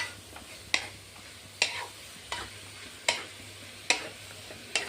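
Grated pumpkin stirred and sautéed in ghee, with a spoon scraping the pan in steady strokes about once a second over a soft, low sizzle.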